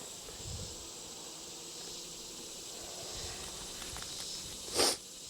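Honeybees buzzing inside the bottom box of a calm hive during a shakeout, a low steady hum close by, with a brief louder rustle near the end.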